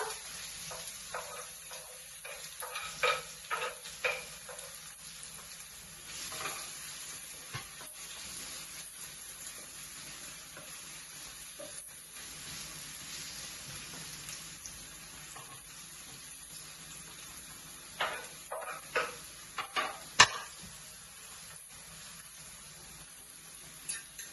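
Onions frying in a pan for pasta give a steady close sizzle and hiss for the whole stretch, with bursts of stirring and scraping breaking through now and then; nobody speaks.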